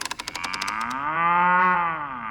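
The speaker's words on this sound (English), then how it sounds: "This is a cow." A cartoon cow gives a single long, drawn-out moo, rising and then falling in pitch, loud and clear on its own after a brief rattling sound at the start.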